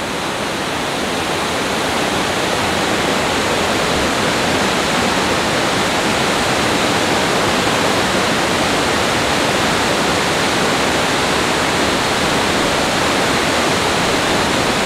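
Mag Aso Falls pours in an unbroken, loud, full-bodied rush of falling water, close and steady for the whole stretch with no voices.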